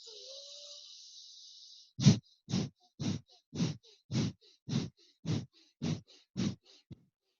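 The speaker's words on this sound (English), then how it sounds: "Kapalabhati looks and sounds like this" About ten sharp, forceful nasal exhales of kapalabhati breathing in a steady rhythm, each a short puff of breath, following a soft airy hiss at the start.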